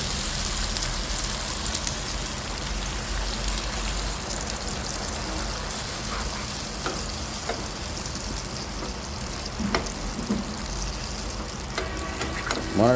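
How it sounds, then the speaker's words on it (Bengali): Shing fish and green banana curry sautéing in a pan, a loud, continuous sizzle with occasional stirring scrapes close by, running steadily throughout with no talking. "10-15 মিনিট তরকারি কষিয়ে আমরা একটু ঝোল দিব।"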